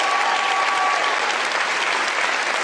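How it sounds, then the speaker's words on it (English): Audience applause from a talk-show crowd responding to Oprah, a dense steady wash of clapping at moderate loudness throughout, with no voices over it. "And then people clap."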